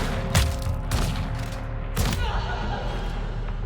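Rifle gunshots ring out during an outlaw duel in the video game Weird West, three loud booming reports spaced about a second apart, each followed by a decaying echo.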